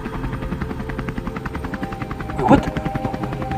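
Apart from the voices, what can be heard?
helicopter flying over the island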